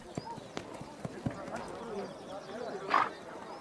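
Hooves of a young Mongolian stallion clip-clop in a loose rhythm of distinct nearby strikes, with a short snort or whinny near the end and faint voices in the background.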